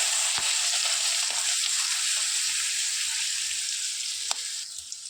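Crushed ginger, garlic and green chilli with curry leaves frying in hot oil in a pan, a steady loud sizzle throughout with a couple of sharp spatula taps against the pan.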